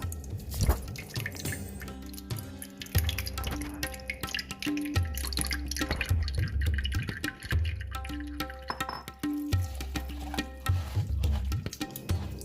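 Tamarind pulp is squeezed by hand in water and strained for a rustic village-style chili pachadi, giving wet squelching and repeated dripping over a steady tonal background that runs throughout.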